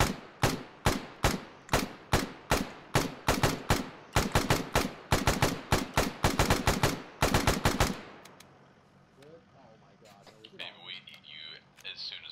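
Gunfire in the military game Arma 3, a close, loud series of evenly spaced shots that speeds into rapid bursts and then stops, followed by quieter background sounds and faint voices.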